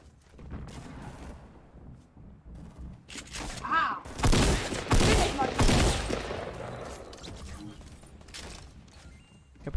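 Bursts of rapid gunfire in a shooter video game, dense volleys peaking midway, mixed with excited players talking over the action.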